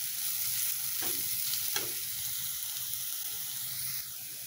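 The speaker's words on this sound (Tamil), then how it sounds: "இப்போ திறந்து பார்த்து கிளறி விட்டுக்கணும், இல்லைன்னா அடி பிடிக்கும்" Cluster bean and lentil usili frying in a pan with a steady, fairly faint hiss, broken by a couple of soft scrapes of a spoon stirring, no voices.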